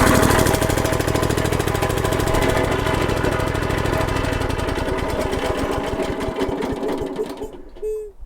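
Small-engine wood chipper, a $500 model, starting and running: a loud, steady mechanical drone with rapid rhythmic pulsing fills most of the stretch, then tapers and cuts out near the end, followed by a brief tone.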